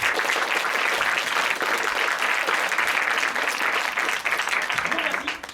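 An improv match audience at a Paris festival claps loudly and continuously to vote for a team, a dense roar of applause that fades near the end as a voice begins.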